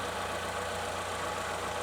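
A Chevrolet Equinox engine idling while an intermittent power-loss fault is diagnosed, a steady, even hum with a faint hiss, constant in level and heard alone.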